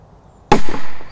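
A single SK4 Spanish Cracker firecracker goes off after a short quiet stretch, giving one sharp, loud bang with a brief rumbling tail.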